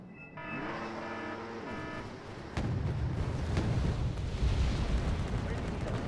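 A heavy rumbling blast from bombs dropping in Wargame: AirLand Battle sets in midway and keeps roaring, loud and broad, after a steady engine drone and tonal game sounds. A voice talks over it.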